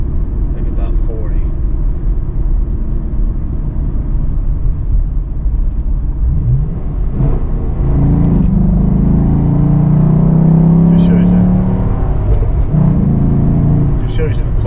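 A 2017 Chevrolet SS sedan with a six-speed manual engine revs up and pulls hard, rising rumble building steadily, with a muffled voice talking over it and wind noise throughout.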